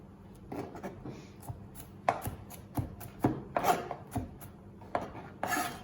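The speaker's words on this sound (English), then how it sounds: "Chop up your garlic." A knife chops fresh garlic on a cutting board for a bacon and mushroom fettuccine, giving a string of close, sharp, uneven taps against the board.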